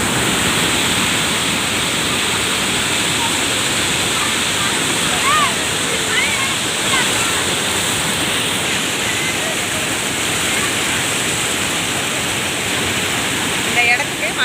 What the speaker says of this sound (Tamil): தண்ணி எவ்வளோ ஸ்பீடாக வருது பார்த்தீங்களா?